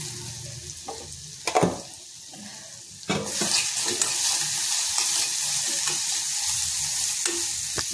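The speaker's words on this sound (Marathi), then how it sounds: "त्यानंतर आपण मिक्सरला वाटलेलं हे जे मिरचीचा मसाला आहे तो घालून घ्यायचा आणि गॅस थोडा स्लो ठेवायचा आहे" Ground chili masala sizzling in a little ghee in a pan over low heat, with a few spoon scrapes and knocks, then a steady louder frying hiss, close with no talk.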